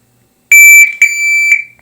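A shot timer at a shooting drill gives its start signal: two loud, piercing electronic beeps in quick succession, the second held longer, sounding alone without talk.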